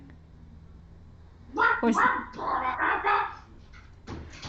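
A person imitates a whining, dying dog with a drawn-out, warbling whimper of several strained vocal bursts up close, followed by a brief spoken word.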